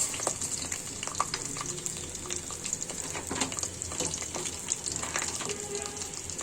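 Fennel and mustard seeds, with bay leaves, sizzling in hot oil for a tomato, olive and green chili pickle, a steady crackling hiss with small pops continuing throughout, no talking.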